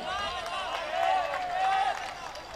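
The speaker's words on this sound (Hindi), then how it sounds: "हौसला बढ़ा दें तालियां बजा के।" An audience at an All India Mushaira poetry gathering in Utraula claps together in a dense, continuous patter, swelling slightly midway, while a voice carries over the applause.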